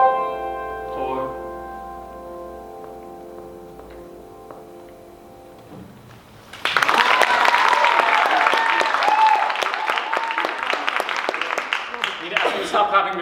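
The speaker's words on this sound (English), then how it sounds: "I'm going to stop clapping" A song's final sustained chords fade out, then a live audience bursts into loud, sustained clapping that fills the room for the last six seconds.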